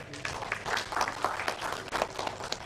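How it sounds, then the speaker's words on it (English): An audience applauds at a university international collaboration signing ceremony, a steady patter of clapping at moderate distance, fairly quiet, running without interruption. "Give applause."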